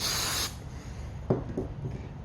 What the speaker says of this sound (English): Then you have just a little bit of the spray activator.